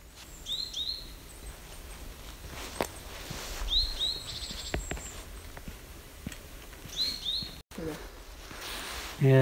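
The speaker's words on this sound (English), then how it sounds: "Can hear the birds singing." Birds sing in Dalby Forest, a woodland setting, with short high chirping phrases repeating every few seconds against quiet background rustle and faint footsteps.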